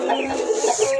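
Young roosters crowing and calling among hens, a cluster of short, strained squawks and clucks, close and fairly loud, overlapping in quick succession.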